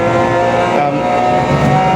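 Porsche Cayman GT4 Clubsport engine pulling hard out of a corner, a loud, steady tonal drone that climbs in pitch as it accelerates, heard close and continuous.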